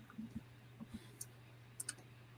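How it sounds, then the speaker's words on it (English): Scattered sharp clicks from a computer keyboard, with a handful of uneven taps and short bursts over a low steady hum, quiet and close. "I'm pretty sure my keyboard would be really loud"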